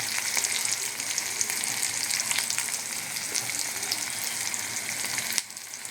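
Chopped onion sizzles in hot oil in a pan and is stirred, giving a steady crackling fry with occasional scraping of the spoon for nearly six seconds before the sound drops off near the end.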